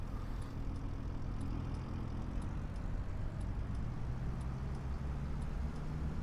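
A 160-horsepower John Deere tractor engine in Farming Simulator drones steadily at low pitch, a constant moderately loud rumble with a faint repeating ticking, no talk.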